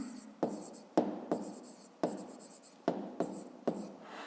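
Pen on paper during a fifth-grade math exercise, close and quiet, a series of short scratchy strokes about every half second with little pauses between them, no voices.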